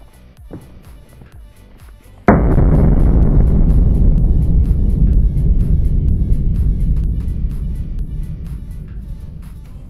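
Explosion sound effect representing a cavitation bubble imploding inside a motorcycle water pump: a sudden loud deep boom that swells into a long rumbling roar and slowly fades.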